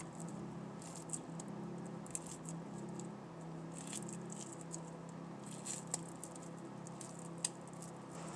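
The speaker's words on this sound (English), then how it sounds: "Taking that last bit of cheese, sprinkling it all over the top there." Shredded cheese sprinkled by hand over the top of a chicken lasagne, making a soft, close, scattered patter of light taps and rustles, with no speech.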